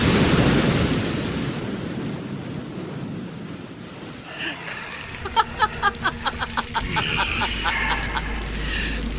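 Ocean waves at the seashore wash in with a broad, hissing surge amid wind noise, followed by a rhythmic series of knocking sound effects and a low tone in a radio drama.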